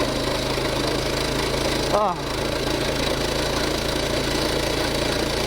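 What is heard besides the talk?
mini bike engine at wide open throttle on ice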